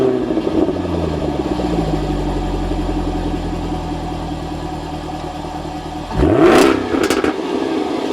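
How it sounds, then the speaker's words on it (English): A Jaguar F-Type V8 idles with a low rumble, then fires up into a sharp, loud rev that swoops upward and falls away, followed by a couple of quick throttle blips, close by and with no talking. "with a Jag, we can't just stand here and talk about it. We have to start it up and get driving."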